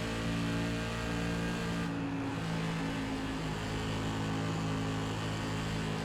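An SK Modified race car engine in the iRacing sim drones loudly and continuously with a layered harmonic tone, shifting pitch slightly as the throttle eases and returns around the corners, with no voices over it.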